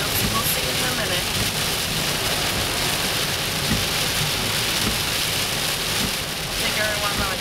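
Steady rain drums on a car in a thunderstorm during a drive home, a continuous dense wash heard from inside the vehicle, with people talking over it.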